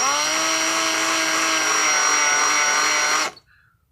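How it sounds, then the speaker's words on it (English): A steady, high-pitched electric drill whine runs continuously for about three seconds at close range, then cuts off abruptly, leaving near silence. "Now I'm going to drill it just using my drill right here"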